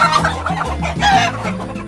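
Hens cluck and squawk close by inside a henhouse on a Venezuelan llanos cattle ranch, busy overlapping calls with a low rumble underneath.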